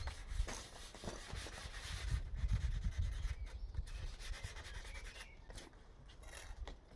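Hand sanding along the edge of a laminated composite worktop, a steady close scratchy rubbing with repeated strokes that continues throughout.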